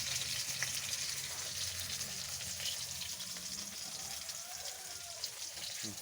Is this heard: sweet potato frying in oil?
yes